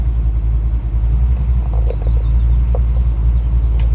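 Tuned Stage 1 Chevrolet Camaro Gen 5 pulling away, a deep, loud, steady engine rumble close by with faint clicks over it and no speech.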